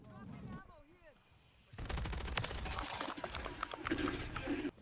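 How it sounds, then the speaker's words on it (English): SMG gunfire in Modern Warfare 3, heard as a dense, sustained rattle of rapid shots that starts abruptly partway through and runs to the end, after a quieter stretch of voice-like sounds. "So y'all just see how busy this gun get."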